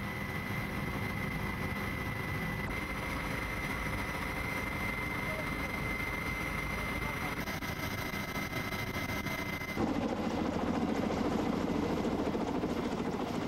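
A maritime police helicopter hovers over a choppy sea during a rescue training drill, its rotor and engine roar loud, dense and unbroken throughout, swelling slightly stronger toward the end.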